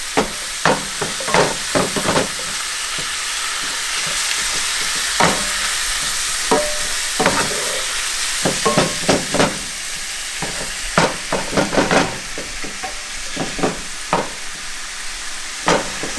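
Ground venison browns in a hot pan with little fat, giving a steady close sizzle broken by repeated scraping and stirring clicks from a utensil, with no voices.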